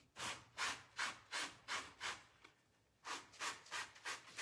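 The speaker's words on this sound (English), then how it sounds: "So just pull it from behind a little bit and keep on sanding." A sponge sanding tissue paper decoupage, a series of rhythmic, close rasping rubs about twice a second with a short pause midway before the strokes resume.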